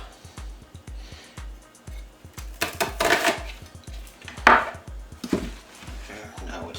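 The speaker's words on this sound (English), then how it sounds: "So we've got half our onion. We are just going to cut that up." A knife chops half an onion on a cutting board in a steady, fast rhythm of close, crisp knocks, with a few louder strikes midway.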